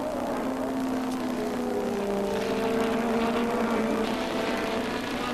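Formula 1 race cars from the 1985 season roar past in a steady, loud engine drone with rising and falling pitch, sustained throughout with no voices.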